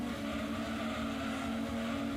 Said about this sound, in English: I think I can hear my car.